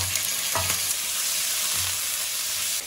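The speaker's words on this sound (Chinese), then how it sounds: "葱姜跟小米辣，炒香后放入这个切好的乌鱼段" Sliced snakehead fish pieces stir-fry with scallion, ginger and chili, giving a steady close sizzle with a few sharp bursts as the wok contents are tossed.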